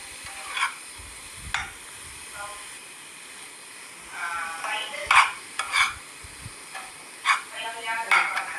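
Vegetables with carrot pieces sautéing in a pan, a soft frying hiss under repeated stirring scrapes and scuffs that come in bursts, with a voice talking quietly in places.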